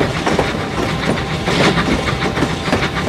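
A train in a simulator video game runs steadily with a dense, continuous rumble and faint rhythmic clatter, loud and close throughout, with no talking.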